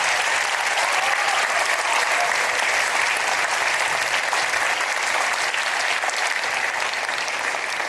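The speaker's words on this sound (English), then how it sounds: "Please give them a round of applause." Sustained, dense audience applause at a school regional 2AA contest concert, an even wash of many hands clapping throughout with no talk over it.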